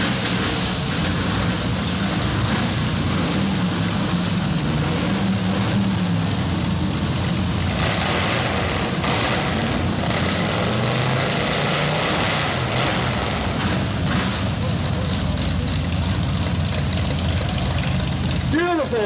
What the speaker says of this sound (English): just gentlemen, start your engines